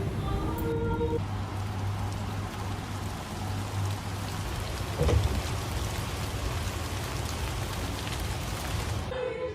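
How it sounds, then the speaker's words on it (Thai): Steady rain pours down again during a trip to Phnom Penh, Cambodia, a constant hiss of drops on surfaces with a low rumble briefly swelling midway and no voices. "ฝนที่ หยุดตกไปแล้วก็กำลังตกใหม่อีกรอบค่ะ"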